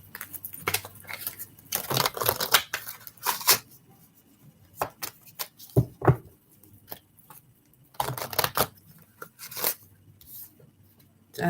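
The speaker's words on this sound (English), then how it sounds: "let me get some astrology cards going" Astrology cards are shuffled and handled, giving bursts of papery riffling and soft snaps that start and stop irregularly, close and fairly quiet.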